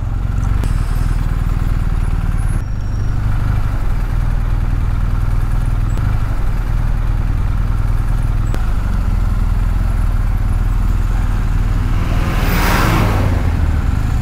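A motorcycle rides through heavy traffic at the Nagoya Station rotary, with a steady loud engine drone, wind buffeting and road rumble throughout and a brief rising whoosh near the end; no talking.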